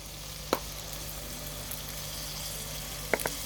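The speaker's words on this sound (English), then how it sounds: "The onions is looking nice, so now you can just add a little bit of garlic and turmeric." Onions with garlic and turmeric fry in a pan with a steady, fairly quiet sizzle, broken by two brief clinks of stirring.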